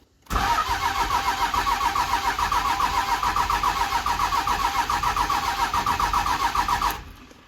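A car engine cranks rapidly and steadily for about seven seconds after fresh batteries are fitted, a loud, continuous starter whir with regular pulsing and no catch or idle following, ending abruptly.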